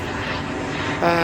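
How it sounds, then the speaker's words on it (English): A propeller airplane flies overhead, its engine drone loud and steady and swelling slightly toward the end. "Sorry about the plane."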